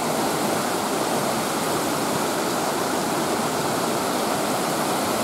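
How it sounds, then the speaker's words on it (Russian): A noisy mountain river rushes through a forest in a steady, loud, continuous roar of broadband water noise, close by and unbroken, with no talking. "Горная речка."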